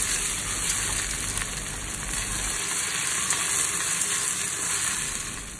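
Onions sizzling in a pan for a lamb head curry, a continuous even crackle and hiss heard up close with no voices.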